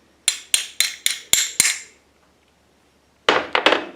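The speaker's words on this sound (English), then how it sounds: "and the hammer." Hammer blows tap a new bushing into a 1968 Ford Mustang door hinge through a socket, six sharp metallic strikes in an even rhythm, a pause, then three more quick taps, with no talking.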